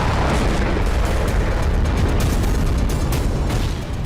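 A roaring explosion at a General Dynamics weapons factory that makes mortar shells, heard as a loud, dense, sustained rumble that fills the whole clip without letting up.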